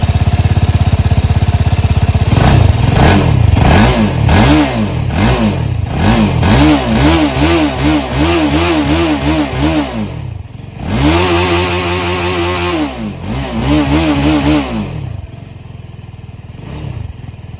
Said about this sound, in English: let me quickly start the bike and let's quickly listen to the exhaust note once.